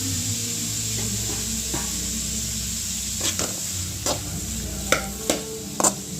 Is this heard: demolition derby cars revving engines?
no